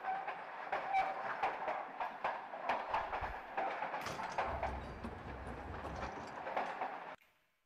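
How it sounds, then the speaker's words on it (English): A train in Fallout 4 rolling along rails, steady rhythmic clickety-clack of wheels over joints with a low rumble, moderately loud, ending abruptly. "Another train ride."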